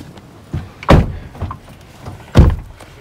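A car door opens on a windy day, with two heavy thunks of the latch and handle plus smaller clicks and rattles, close and fairly loud, with no talking.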